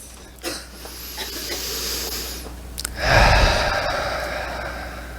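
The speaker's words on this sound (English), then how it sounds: "just close your eyes for a moment and take a deep breath" A slow, deep breath drawn in and then let out, heard as a soft airy hiss with no talking.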